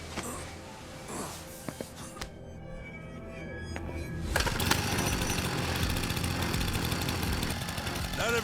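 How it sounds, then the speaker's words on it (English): A chainsaw revs up in the video game Lost Judgment, a loud, sustained buzzing roar that kicks in partway through after quieter rumbling, with voices faintly underneath. "How quickly can a chainsaw kill a guy?"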